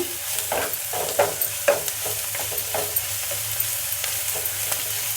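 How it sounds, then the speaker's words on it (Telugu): Ginger garlic paste frying with onions and green chillies in a pan, a steady sizzle broken by repeated scraping and stirring strokes from a spoon, close and continuous with no talking. "అల్లం వెల్లుల్లి పేస్ట్ పచ్చివాసన పోయేదాకా వేయించుకున్నాము"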